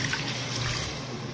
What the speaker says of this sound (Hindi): पानी ऐड करना है 1 गिलास और 2 गिलास टोटल पानी ऐड करना है